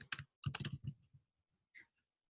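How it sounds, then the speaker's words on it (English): Someone types on a computer keyboard up close in a quiet room. Two quick bursts of clicking keystrokes come at the start, a few stray taps follow, and a single click sounds after a short pause. "I'm going to type in InDesign"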